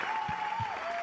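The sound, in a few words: audience applause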